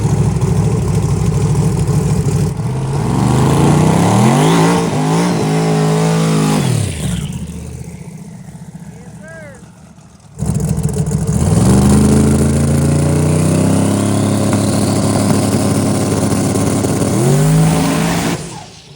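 A 5,000 hp Camaro makes an eighth-mile drag pass on small 275 tires: a deafening, close engine roars and climbs through gear changes, drops briefly mid-run, then screams again at full throttle, with some tire noise.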